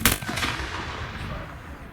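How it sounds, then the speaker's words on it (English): Guns fired in a historical re-enactment, a loud sharp crack at the start followed by rolling, echoing rumble and scattered reports that fade gradually. "Why are they firing guns?"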